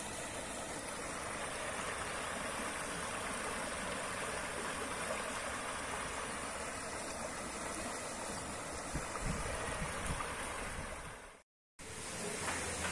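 The Cañaveralejo River rushes in a steady, loud broadband roar, continuous throughout apart from a brief cut near the end.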